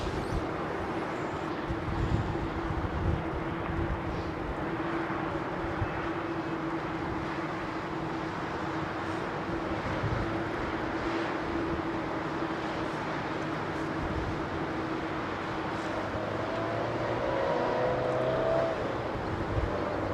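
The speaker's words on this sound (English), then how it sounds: "787 Dreamliner making its way" A Biman Bangladesh Boeing 787 Dreamliner taxis at London Heathrow, a steady low engine hum and broadband rumble heard from a distance, continuous and fairly faint with a slight swell near the end.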